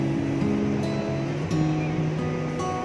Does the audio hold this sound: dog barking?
no